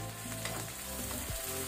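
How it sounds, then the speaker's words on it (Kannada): Three sprigs of curry leaves with green chillies crackling in hot oil for a chicken roast, a short burst of close, dense sizzling and spluttering with no voices. "3 ಕಡ್ಡಿ ಕರಿ ಲೀವ್ಸ್ ಒಗ್ಗರಣೆ ಸೊಪ್ಪು. ಇದನ್ನೀಗ ಫ್ರೈ ಮಾಡ್ಕೊಳ್ಳುವ."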